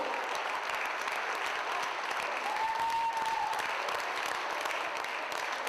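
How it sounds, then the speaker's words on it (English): A wrestling crowd on its feet gives a standing ovation at an indoor event, with steady, dense applause and cheering that holds at full strength for the whole stretch. "Look at that standing ovation for a superstar that deserves it."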